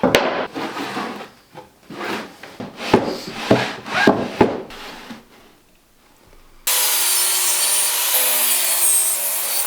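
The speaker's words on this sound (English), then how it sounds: "put the miter sled on the table saw" A table saw fitted with a miter sled cuts plywood at 45 degrees, giving bursty, irregular cutting and rubbing noise for several seconds, then a steady, loud, bright whine of the saw running alone.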